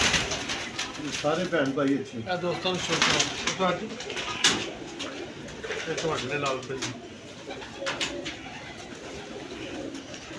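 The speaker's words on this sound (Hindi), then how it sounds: "हाँ जी ये अच्छे कबूतर हैं।" Pigeons coo in repeated soft, throaty rolls, close by and fairly steady, while someone talks over them for most of the stretch.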